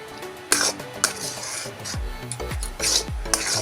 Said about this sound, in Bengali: নাড়তে নাড়তে এই ডোটা এসে যাবে আর সুজিটা সিদ্ধ হয়ে যাবে